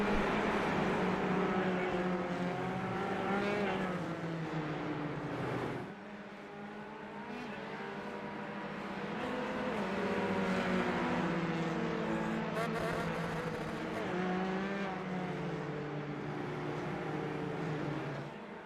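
Single-seater race cars of the FMSCI Asia-Pacific Single Seater Championship, F4-type cars with F3 engines, driving uphill behind the safety car, their engines droning with steady rising and falling pitch, several cars layered together throughout.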